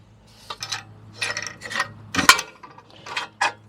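Metal clicks and ratcheting scrapes as a tin jumps a thread while being snugged onto a wheel, several short, close, irregular bursts with a sharper metallic crack near the middle.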